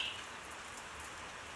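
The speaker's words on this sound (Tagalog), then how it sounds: "Ay, ulan, walang hanggang ulan," Steady rain falling during an endless downpour, with flooding nearby; a soft, even hiss of drops holding at a constant low level throughout, with no voices.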